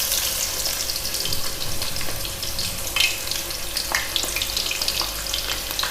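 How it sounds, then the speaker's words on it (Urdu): Onions frying in mustard oil for chana pulao, a dense, loud crackling sizzle that runs steadily throughout, with faint clinks of stirring and no talking. "پیاز کو جب مسٹرڈ آئل میں فرائی کرتے ہیں"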